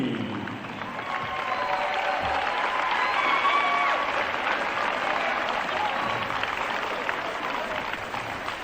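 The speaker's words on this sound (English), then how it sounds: "How about a nice round of applause for all the members of the 2022 Class A State Tournament" An audience at a state high school championship applauds the 2022 Class A State Tournament team, a broad sustained wash of clapping that swells slightly midway and holds, with faint crowd murmur beneath.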